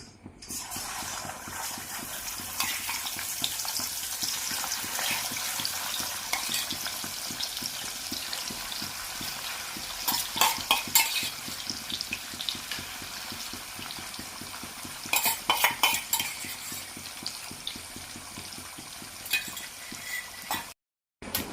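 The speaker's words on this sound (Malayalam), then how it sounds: "ഈ പ്രോൺസ് ഒന്ന് ഫ്രൈ ചെയ്തെടുക്കാം." Prawns bubbling and sizzling in hot oil, a steady crackle with occasional louder spatters and scraping stirs, no talking.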